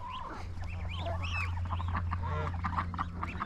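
Ducks quacking and chattering in a farmyard shared with geese and chickens, a busy overlapping mix of calls over a low steady hum, fairly faint.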